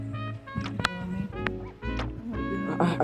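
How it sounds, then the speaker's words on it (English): Outdoor waterfowl such as ducks or geese calling in a series of harsh honking, quacking bursts, close and fairly loud, at a lakeside near a black swan. "I hear a bird."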